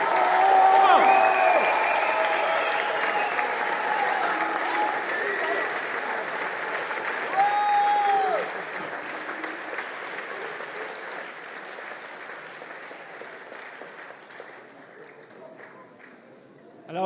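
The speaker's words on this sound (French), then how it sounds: "Un tonnerre d'applaudissements pour Mick!" An evening gala audience applauds loudly at first, the clapping gradually thinning and fading as the hall quiets, with a few faint voices underneath.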